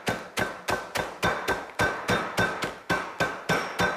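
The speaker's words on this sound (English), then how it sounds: "I've got my meat mallet here that I'm going to just crush these up" A meat mallet pounds food sealed in a bag, giving eleven sharp, evenly spaced thuds, each cracking and crunching before it fades, loud and close with no talk.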